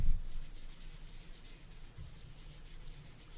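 Soft, continuous rubbing as fingers smooth and blend chalk pastel colors on paper, a faint steady friction sound with gentle strokes and no voices.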